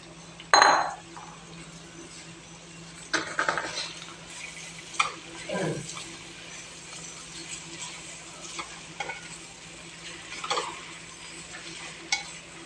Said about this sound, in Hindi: अब हम इसमें भिंडी शामिल कर देंगे।